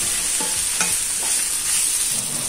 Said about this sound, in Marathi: आता या सर्व भाज्या आणि शेवया एक 5 मिनिटांसाठी परतून घेऊया